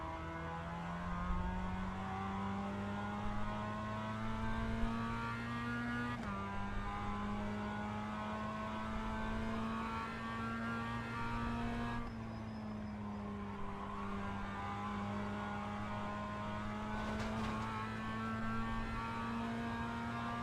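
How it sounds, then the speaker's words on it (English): A Mazda MX-5 engine revs in the iRacing sim while held at high rpm on the clutch before a race start, a steady droning buzz with brief pitch drops and rises, loud and continuous. "I'm using the clutch to keep the revs high"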